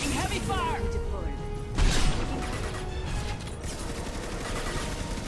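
A Mass Effect squad battle against Reapers, with scattered crackling weapon fire and mechanical clatter at moderate distance beneath talk, one louder burst standing out midway.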